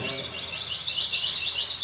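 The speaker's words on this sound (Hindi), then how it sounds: "मधुर वाणी में पंछी बोल रहे हैं।" Small birds chirp and tweet continuously on the Ganges riverbank at Sukhtal, a bright, repeating twittering chorus that stays fairly close and steady over a soft background hush.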